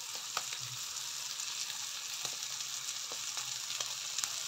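Bitter gourd (karela) frying in a pan, a quiet, continuous crackling sizzle with occasional soft stirring clicks, close by and with no voices.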